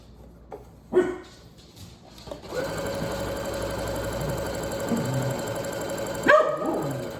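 A sewing machine straight-stitches a fleece panel blanket, running in a steady close mechanical whir for several seconds, with a dog barking sharply before it starts and again near the end.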